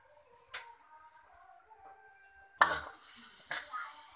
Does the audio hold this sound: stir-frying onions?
yes